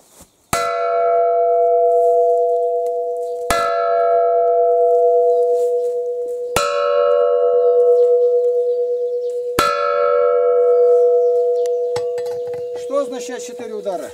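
Four loud, evenly spaced church bell strikes, each ringing out and sustaining before the next, followed by a brief faint voice at the end.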